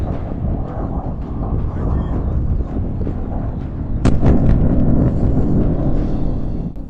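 A massive blast on the eastern Ukrainian front line rolls out as a dense, sustained low roar with a sudden sharp crack partway through, followed by continuing heavy rumble.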